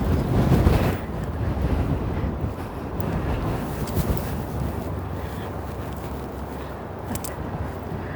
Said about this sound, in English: Ooh, wind. Apologies.